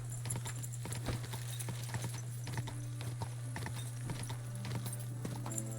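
Steady clip-clop of horse hooves trotting at an even rhythm in the video game Kingdom Come: Deliverance, with a constant low hum underneath and faint background sounds.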